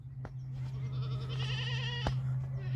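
Goats bleat nearby during spring vaccinations of a herd of 125, a wavering call drawn out over a steady low electrical hum with a couple of sharp clicks.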